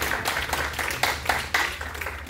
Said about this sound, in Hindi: तो ताली बजनी चाहिए भाई